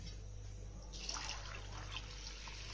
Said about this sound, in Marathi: आता हे ना बुडेल इतपत पाणी ठेवायचं आपल्याला टाकून आणि झाकून ठेवायचं